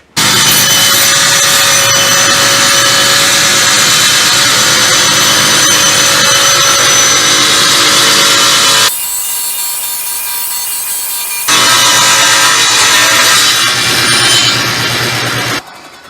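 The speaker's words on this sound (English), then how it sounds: "I'm going to start the saw and then raise the blade slowly until it comes through there." A power saw cuts into wood for a banjo build as the blade is slowly raised through the piece, giving a loud, steady whining buzz that drops out briefly mid-cut and then resumes.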